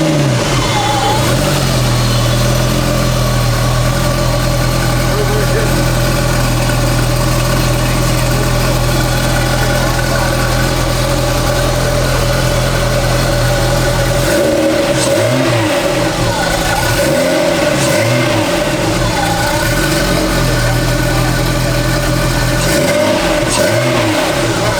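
A 1988 Ferrari Testarossa with a stick shift, heard from inside while driving: a loud, droning engine climbs and falls in pitch through repeated revs and gear changes, with talk faint underneath.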